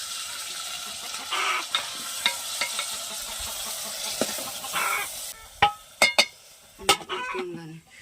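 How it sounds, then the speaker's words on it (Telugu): Tomatoes frying in a pot over a tribal-style cooking setup, with crackling sizzle and stirring clatters. A few sharp knocks come near the end, and faint background voices and bird sounds are audible. "ఇప్పుడు టమాటా వేసుకుంటున్నామండి."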